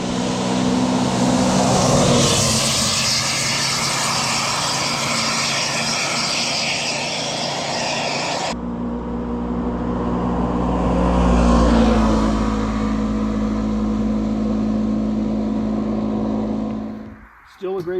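A Kawasaki Ridge side-by-side utility vehicle's engine drones loudly and steadily as it drives by, swelling as it nears and then dropping off at the end.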